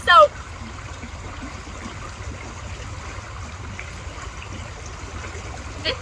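Rapid on a creek rushing steadily nearby, a continuous broadband wash of flowing water with a brief louder splash or voice at the start and end.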